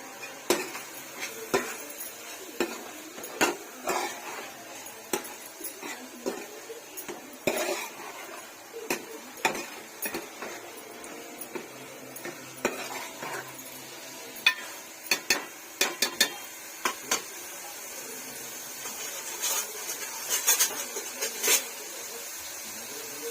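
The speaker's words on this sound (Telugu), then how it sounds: "కలుపుకున్నానండి దీన్ని, కారం బాగా పట్టేలాగా" A spoon stirs prawns coated in chili powder in a cooking pot, giving repeated irregular clinks and scrapes of metal on the pan that run steadily throughout.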